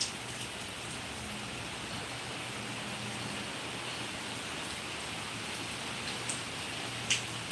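Steady heavy rain pours in Kanyakumari during a stormy, windy downpour, a dense continuous hiss close by with a few brief louder drips or gusts near the end.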